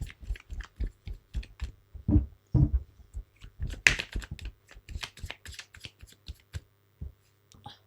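Tarot cards being shuffled and drawn during a reading, a steady series of quick soft card slaps and riffles with a few louder flicks, close and fairly quiet with no talking.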